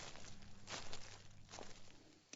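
Footsteps trampling through dead leaves: a few crunchy, rustling steps at close range, with two louder scuffs standing out against a steady low background hum.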